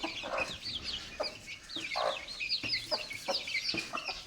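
Farmyard chickens cluck in a steady, overlapping chatter at moderate distance, with sharp individual clucks rising above a soft background murmur and no talking.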